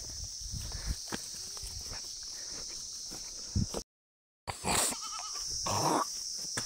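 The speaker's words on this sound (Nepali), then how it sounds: "हाम्रो यस्तो बाख्रा चाहिँ लाइन लाएर हिँडिरहेछ" A line of goats walking through forest bleat now and then over soft shuffling hoof steps, nearby and moderately loud, with a short silent gap partway through.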